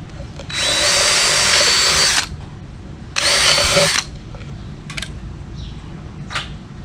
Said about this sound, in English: I need to drill the holes out even bigger